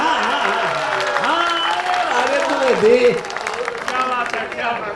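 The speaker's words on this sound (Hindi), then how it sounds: "तालियां तालियां।" Audience applause rumbles beneath a voice speaking Hindi at a gathering. The clapping sits under the talk throughout as a continuous, moderately loud background.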